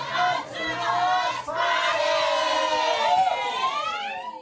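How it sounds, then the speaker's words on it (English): Loud crowd of people about to go on holiday, cheering and shouting in rising and falling wails that sound almost siren-like, continuous and dense throughout. "That's the sound of people who are about to go on holiday."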